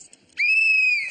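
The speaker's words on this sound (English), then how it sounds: "the race begins when you hear the whistle" A sharp, steady referee-style whistle blast at the start of a race, about three-quarters of a second long and loud, coming in after a brief quiet pause with faint background noise.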